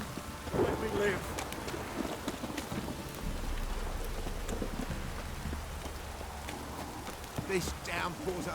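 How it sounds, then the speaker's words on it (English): Heavy rain pours steadily in The Witcher 3 video game, with low rumbling thunder rolling through the middle and sparse voice sounds over the downpour. "This downpour's a bastard, it is."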